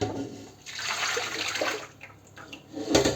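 Strained plum juice pours steadily back into a pot for a few seconds, a close, splashy gurgle that swells and fades, with no talking.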